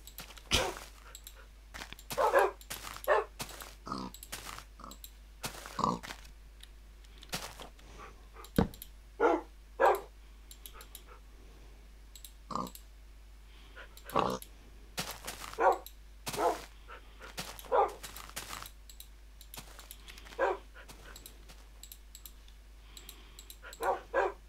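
Minecraft dogs bark in short, sharp bursts scattered across the whole stretch, some overlapping in quick clusters, with soft clicks between them and no talking.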